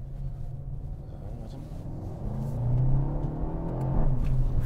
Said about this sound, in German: Ich gebe mal Gas gleich, ja?